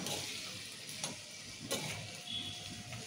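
Tomatoes cook in oil in a pan for a tomato and green chilli pestle-ground chutney, giving a steady close sizzle with a few sharp stirring clicks and scrapes.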